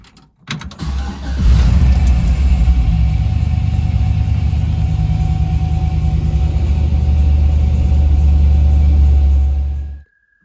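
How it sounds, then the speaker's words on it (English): An older car fitted with a swapped-in LS V8 engine cranks briefly, catches, and settles into a loud, steady, deep idle rumble close by, running about nine seconds before cutting off abruptly, with no voices. "So let's see what happens when I start the car."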